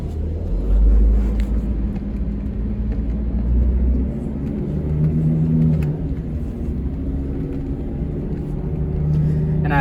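An avgas fuel truck drives along with a continuous low engine rumble and road noise, steady throughout with slight swells as it moves, close and fairly loud.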